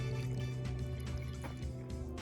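Small solar fountain pump dropped into a hummingbird water dish, splashing and trickling water steadily for a couple of seconds under a constant background hum, with no talking.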